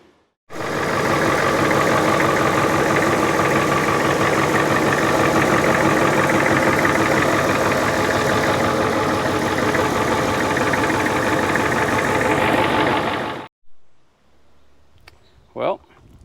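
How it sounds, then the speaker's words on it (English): A pressure washer sprays degreaser over an IDI diesel engine to strip off oil and fuel, a loud steady broadband hiss running without pause for about thirteen seconds before cutting off, followed by brief faint handling noises. "now I'm going to fire up the pressure washer, hose this thing down with degreaser"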